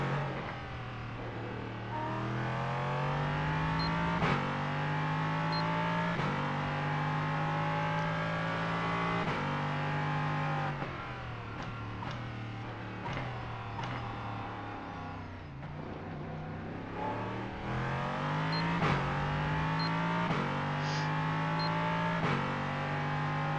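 A race car engine from a 1987-season NASCAR video game at Talladega, droning loudly and steadily, with its pitch rising and falling as the throttle eases off and opens up again through long runs.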